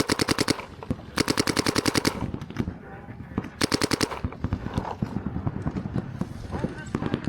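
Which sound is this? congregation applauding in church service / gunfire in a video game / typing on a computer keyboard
gunfire in a video game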